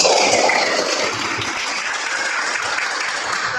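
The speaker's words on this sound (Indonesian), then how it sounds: "Tepuk tangan untuk kelompok 1." Classroom applause for a student group after their discussion presentation, a steady dense wash of many hands clapping together at close range, holding evenly throughout.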